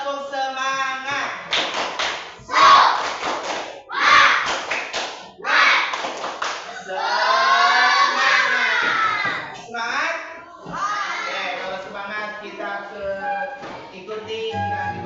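A group does rhythmic tepuk semangat spirit clapping, bursts of patterned claps in unison mixed with chanting and singing voices, close and lively, pausing and restarting several times.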